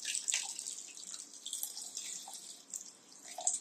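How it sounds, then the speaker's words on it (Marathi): Water poured into a mixer jar holding chillies, a faint, thin trickle and splash that runs steadily for a few seconds, quiet and close with no talk. "ह्यात थोडं पाणी घालू"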